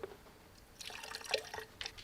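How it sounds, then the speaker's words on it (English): Antifreeze coolant leaking and pouring out the bottom of a coolant reservoir tank on a salvage car, heard as faint splashing drips and a brief trickle of liquid, quiet and close. "It was legit pouring out the bottom of that antifreeze tank."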